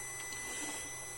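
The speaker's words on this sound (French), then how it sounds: "Je suis en train de mettre l'imprimante à 0." A 3D printer homes its axes to zero, giving a faint steady motor whine and hum with a slight rise in the middle. The sound is quiet and continuous, with no talking.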